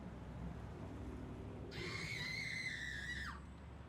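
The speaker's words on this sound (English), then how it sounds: "The screams that had haunted his nights for weeks." A single sustained scream, high and piercing, rises abruptly and holds for about a second and a half before cutting off, set over a low steady background hum with no talk.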